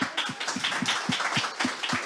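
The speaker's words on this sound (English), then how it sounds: "strong applause to that guy" An audience at a food-tech accelerator demo day claps in a steady, rhythmic beat of about four claps per second, moderately loud and close, with no voices over it.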